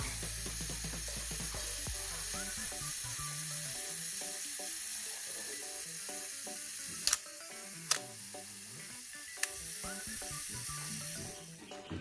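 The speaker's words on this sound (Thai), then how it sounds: "ไทม์เมอร์วิ่งตามปกตินะ" The mechanical self-timer on an Olympus OM-1 film camera runs with a continuous, close buzzing ratchet whir for about twelve seconds, broken by a few sharp clicks before it winds down.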